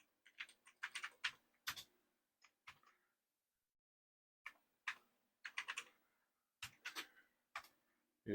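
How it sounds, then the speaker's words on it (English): Keys clacking on a Commodore 128 computer keyboard, several quick bursts of typing separated by short pauses, close and fairly quiet. "And we will type in a secret message."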